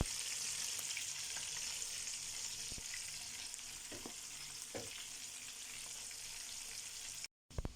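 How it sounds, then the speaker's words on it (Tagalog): Eggs fry in a pan in a home kitchen, a constant crackling sizzle with a few sharp clicks and scrapes of a utensil, ending in a brief cutout and a couple of knocks. "Prito mo tayo itlog."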